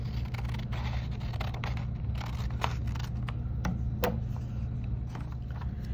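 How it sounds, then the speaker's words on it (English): Scissors cutting a paper rectangle for a linocut, a run of soft close snips and scrapes over a low steady background hum. "The first step is you gotta cut out the rectangle."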